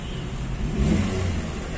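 Daihatsu Gran Max van engine running just after being started, a steady close mid-pitched rumble with a brief swell in revs in the middle, no talk.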